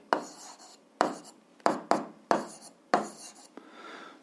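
A pen writes on paper while working a school physics exercise. Six quick scratchy bursts of strokes sound close and fairly quiet, separated by short pauses, with no talking.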